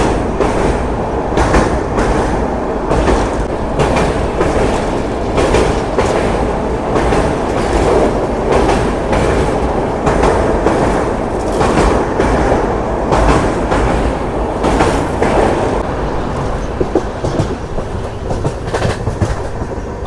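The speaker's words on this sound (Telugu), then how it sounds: "మన ట్రైన్ వచ్చేసి చాలా అంటే చాలా స్లోగా తీసుకెళ్తున్నాడు" The Coromandel Express, running from Chennai to Shalimar, rolls slowly along the tracks near the Penna River, its wheels beating out a loud, steady clickety-clack with repeated rhythmic thumps and rumble heard from on board.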